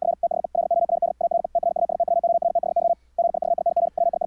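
Noisy Morse code practice audio: a steady mid-pitched CW tone keyed in short dots and longer dashes with brief gaps, over a faint constant low hum and hiss, no voices.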